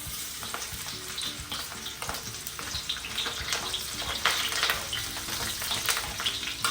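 Garlic sizzling and frying in hot cooking oil in a pan, a steady close crackle with occasional stirring clinks and no talk.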